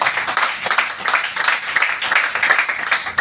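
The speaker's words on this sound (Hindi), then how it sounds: "आयुर्वेदा के लिए बहुत जोरदार तालियां" Audience applause at a marketing training event, a dense burst of clapping from many hands, loud and continuous with uneven swells throughout.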